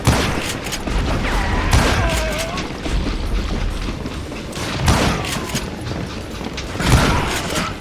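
Loud gunshots ring out in Call of Juarez, several sharp booming reports spaced a second or two apart over a rumbling action-game backdrop.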